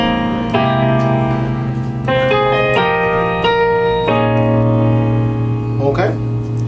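A piano slowly plays the third part of the intro to a song, with sustained chords changing every second or two, bass notes held beneath them, heard clearly and alone.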